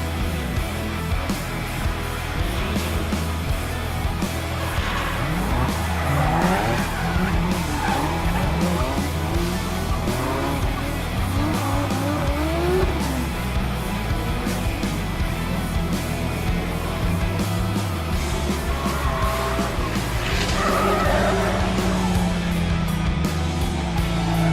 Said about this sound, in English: there were some people got some nice drifts in and there was a few nice cars there